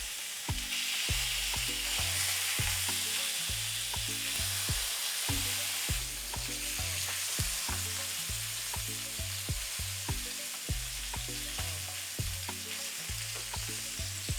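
Salmon fries in a pan over a medium flame, giving a steady, close hiss of sizzling oil that runs the whole time beneath a melodic background tune.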